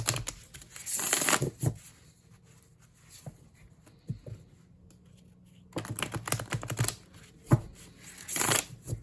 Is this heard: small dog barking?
no